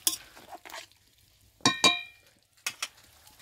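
A spoon stirs fried Malabar spinach stems into a curry in a pan, giving a few separate clinks and scrapes of metal against the pan with quiet gaps between them.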